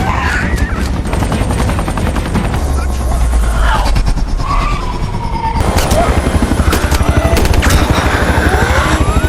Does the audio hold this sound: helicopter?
yes